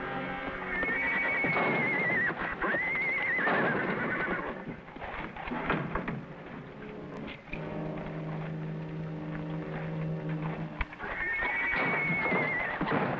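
A horse neighs loudly several times, with long whinnies rising and falling amid hoof clatter and steady background noise.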